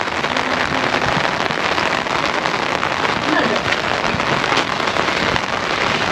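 Heavy rain pours down in a dense, constant roar with scattered louder drops striking nearby surfaces.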